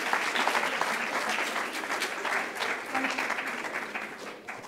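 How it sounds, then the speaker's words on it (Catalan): Sustained applause from a crowd at a university event, steady dense clapping throughout at moderate volume, with no talk over it. "us demanem un gran aplaudiment"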